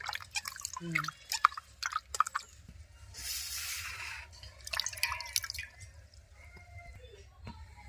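Tomatoes are rinsed by hand in water while making tomato sauce, giving soft drips, splashes and squishy handling sounds in irregular bursts, with a short stretch of steadier running water midway and a low hum underneath.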